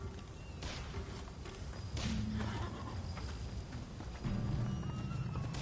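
Horse hooves clip-clop steadily on ground in the video game Rise of the Ronin at a horseback archery practice area, a close, even rhythm over low ambient background.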